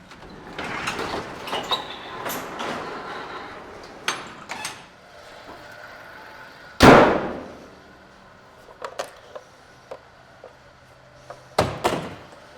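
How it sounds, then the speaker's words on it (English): A shop door opens with a loud slam and rattle midway, among scattered knocks, clunks and sliding scrapes, with a lower steady hum afterward and no talking. "I should probably open the door in the shop so I don't get asphyxiated."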